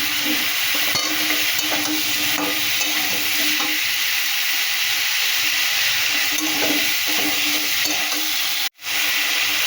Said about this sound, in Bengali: মশলা থেকে ফুলকপি আলু ভালো করে কষিয়ে নিচ্ছি